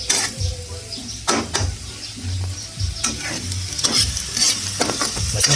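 Lots of garlic sautéing in a pan for ginisang ampalaya, a loud close sizzle with repeated spatula scrapes and clanks as it is stirred, no talking.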